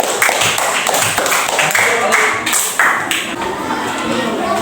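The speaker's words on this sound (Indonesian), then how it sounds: "tepuk tangan dulu" A classroom audience in a teaching-practice lesson breaks into steady clapping that fills the clip, dense and close, with voices mixed in beneath.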